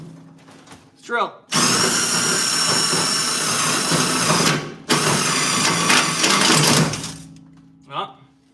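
A power drill bores holes into a car body in two long, loud, steady bursts with a short break between them, with brief speech before and after.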